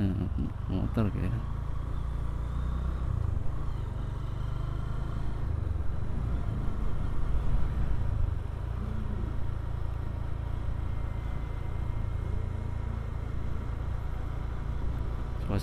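Motorcycles and scooters run at a scooter festival at Simpang Lima Gumul in Kediri, Indonesia, with a steady low engine rumble and occasional revs under ongoing talk and crowd noise.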